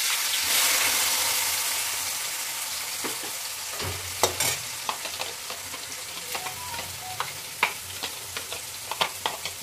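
Chopped onions frying in a pan with whole spices for a Bengali mutton curry, a steady close sizzle with scraping stirs and intermittent clinks of a utensil against the pan.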